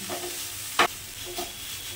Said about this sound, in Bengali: আর একটু নাড়াচাড়া করলেই উচ্ছে দিয়ে শাক ভাজা একেবারে